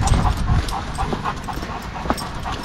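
A dog whimpers and pants close by in short, soft bursts against a rushing outdoor background, on a walk near Milanówek, Poland, where streams are dry.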